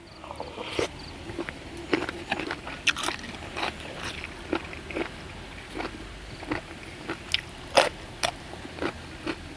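Close, crisp crunching from chewing crunchy squid, with irregular sharp bites and crackles repeating steadily against a quiet background.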